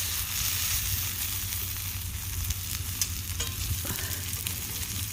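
Biscuit frying in a greasy pan over an outdoor campfire, a steady close sizzle with light crackles and a brief scrape as the pan shifts, no talk.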